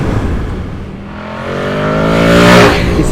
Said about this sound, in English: you open the throttle and you get that really lovely induction growl